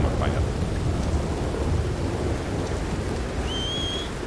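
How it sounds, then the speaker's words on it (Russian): Heavy rain pours steadily in Red Dead Redemption 2 while thunder rolls and rumbles low underneath, a dense, continuous wash of storm noise with a brief high whistle near the end. "Тут ливень, капец."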